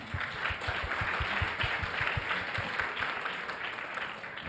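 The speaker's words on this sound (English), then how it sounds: "Please give yourself a big round of applause." An audience at a business school competition in Bangkok gives a dense, steady round of applause. The claps wash together into a continuous roar that tapers slightly toward the end.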